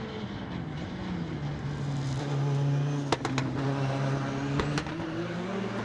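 A Toyota MR2 rallycross car races through a turn at a British Rallycross retro meeting, its engine note droning and shifting in pitch as it passes, with sharp mechanical clatters midway and no talk.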